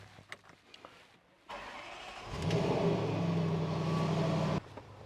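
A Range Rover SV Autobiography with a 5.0 V8 cranks and fires up, settling into a loud, steady idle rumble after a brief starter whir, with faint rustling before it.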